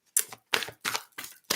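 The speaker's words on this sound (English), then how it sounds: "That's a good shuffle." A deck of playing cards is shuffled in several quick, close riffling bursts, each a crisp flutter of card edges separated by brief silences.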